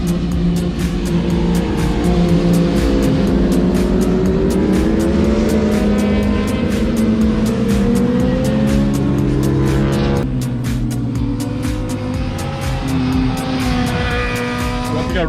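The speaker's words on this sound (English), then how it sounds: "hearing the sound of a Hindle exhaust on a bright sunny day at Shannonville" Sport motorcycles fitted with Hindle exhausts race around the Shannonville track on a sunny day, loud engines howling and shifting pitch as bikes pass close by one after another, rising and falling through gears with no talk over them.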